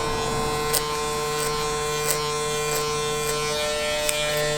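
An electric hair clipper buzzes steadily at close range while cutting a burst fade mohawk, a constant loud hum with faint periodic clicks as the blade works around the head.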